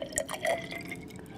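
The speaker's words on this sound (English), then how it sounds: "We'll pour it back in this test tube here." Lead nitrate solution is poured back into a glass test tube in a chemistry demonstration, giving a brief trickle with a few small splashing drips, close and fairly quiet.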